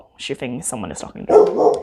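A pet dog barks a few sharp times close by, overlapping with someone talking in a home where houseplants are being tended.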